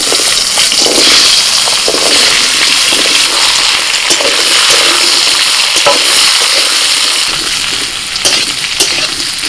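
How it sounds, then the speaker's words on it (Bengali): Potato and papaya pieces frying in hot oil tempered with whole cumin, green chilies and dried red chilies, a loud, steady, close sizzle hissing throughout with faint stirring clicks. "কাঁচা লঙ্কা শুকনো লঙ্কা ফোড়নে দিচ্ছি গোটা জিরে পেঁপে আর আলু দিয়ে দিচ্ছি"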